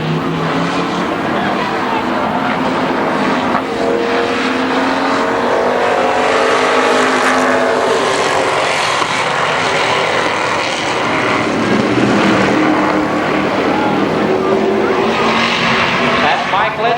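Street stock race cars in a four-lap trophy dash at Columbus Motor Speedway, a loud continuous roar of engines that swells and fades as the pack passes.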